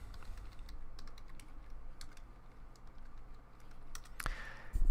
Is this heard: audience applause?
no